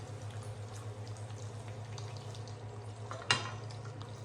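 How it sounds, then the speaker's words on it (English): Eggs gently frying in a pan, a faint steady low bubbling and soft sizzle, with one brief louder clatter near the end. "You can see they're only really gently frying, barely sizzling at all, just gently bubbling away."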